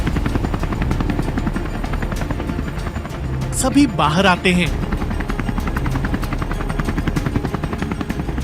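A helicopter's steady rotor chop and engine drone fill the scene overhead, loud and continuous, with someone speaking over it in an animated comedy.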